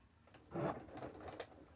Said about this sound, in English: just sew along that front of the inner facing